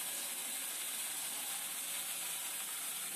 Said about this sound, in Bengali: এবার দিয়ে দেবো আমি এর ভিতরে কালো জিরে, দিয়ে দিচ্ছি কয়েকটা শুকনো লঙ্কা, তেজপাতা দিয়ে একটুখানি ভালো করে নাড়াচাড়া দিয়ে দিয়ে দিচ্ছি আমি মাছের মাথা